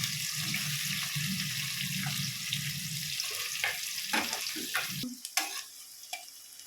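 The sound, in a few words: onion frying lightly in oil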